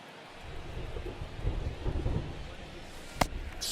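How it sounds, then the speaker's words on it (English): Steady rain falls on a ballpark field in the baseball video game MLB The Show, a soft continuous hiss with low rumbling beneath it. A commentator talks over the rain, and a single sharp crack comes near the end. "the field's not going to be able to hold up if the rain gets any worse than this"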